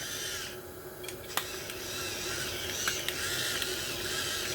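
A battery-powered pepper grinder grinds pepper over a chickpea curry cooking in a pressure cooker, giving a soft mechanical whir with a few sharp clicks against steady kitchen background noise.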